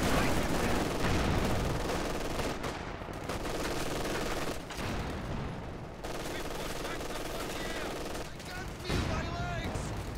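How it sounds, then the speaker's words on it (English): Dense, continuous gunfire and battle noise from Company of Heroes 2, with paired machine guns firing steadily over the full stretch at a loud, even level. Brief dips break the racket, and a voice speaks under the shooting. "These double machine guns now causing some headaches for DevM"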